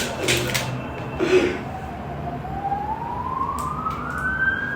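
A police siren wails from a distance outside, its tone rising slowly and steadily under background noise and brief laughter.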